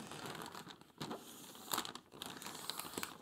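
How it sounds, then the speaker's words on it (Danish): Wrapping paper crinkles and rustles as a Christmas gift is wrapped, close and fairly quiet, with a few sharper crackling bursts. "Vi pakker den ind sådan her."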